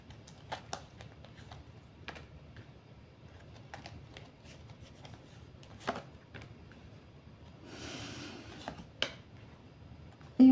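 Tarot cards are shuffled and handled close by in a quiet room: scattered crisp snaps and flicks, a short burst of riffling near the end, and a sharp tap at the very end.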